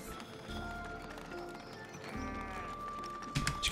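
Sheep bleat at a sheep farm in the Foundation city-building game, a few faint animal calls mixed into a busy game soundscape with music and ambient tones.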